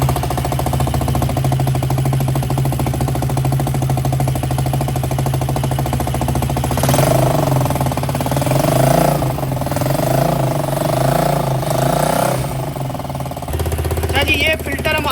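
An engine runs with a newly fitted exhaust, giving a loud, steady low rumble that shifts into rougher, throbbing revs partway through.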